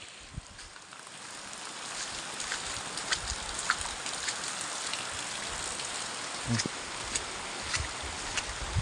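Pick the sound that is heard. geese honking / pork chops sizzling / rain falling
rain falling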